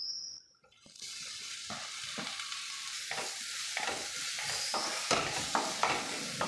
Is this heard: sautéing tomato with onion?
yes